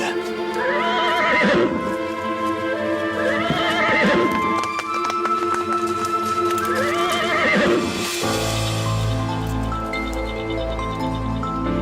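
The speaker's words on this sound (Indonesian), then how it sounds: "Itu kayak ada suara tapak kaki kuda." A horse neighs in three repeated whinnies over steady clip-clopping hooves, loud and close, followed by a shift to a lower sustained tone with sparse drips.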